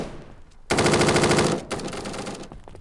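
Rapid automatic gunfire in the Standoff 2 shooter game, one loud sustained burst of close, evenly spaced shots lasting under a second, followed by a fading echo with no talking.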